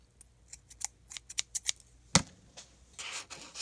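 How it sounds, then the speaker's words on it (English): Scissors snipping off excess yarn after tying knots for a pinecone ornament, a quick run of crisp separate snips followed by a sharper louder cut and light rustling, close and with no voice. "Cut off your excess."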